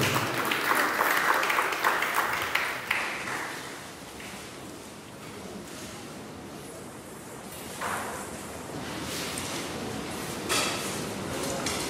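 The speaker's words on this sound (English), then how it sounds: "Please a round of applause for the Vice-Chancellor." University audience applauding the Vice-Chancellor, a loud burst of clapping at the start that thins out into scattered claps and rustling.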